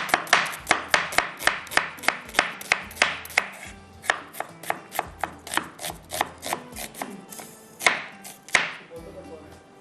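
Onions being chopped with a knife on a cutting board: a rapid, steady run of sharp close knocks, slowing into irregular chops and scraping toward the end.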